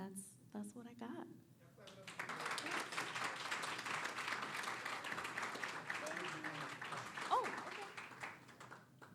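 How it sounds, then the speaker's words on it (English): An audience at a community partnership breakfast breaks into sustained applause, a dense wash of clapping lasting several seconds after a few brief spoken words. "One more time, everybody. Clap it up"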